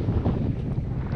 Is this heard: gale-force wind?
yes